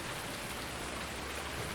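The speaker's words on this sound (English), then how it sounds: "I do love the rain effects" Steady rain falling in Farming Simulator 2019, a soft continuous hiss of drops on surfaces with no breaks, even and moderately loud throughout.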